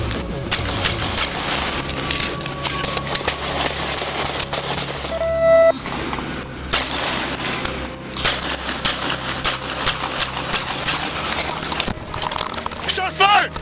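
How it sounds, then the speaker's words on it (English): Gunshots from a police shooting ring out in a rapid burst, sharp and loud, amid shouted commands and radio chatter heard from a dashcam's vantage. "Shots fired!"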